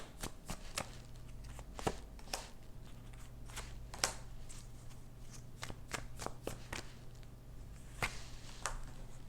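Tarot cards are shuffled and drawn by hand, giving a close, quiet run of crisp card snaps and riffles at an irregular rhythm, with a low steady hum underneath.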